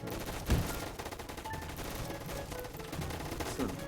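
Rapid automatic gunfire in Roblox Gunfight Arena, fast repeated shots at moderate volume with a few heavier thumps and short electronic tones mixed in.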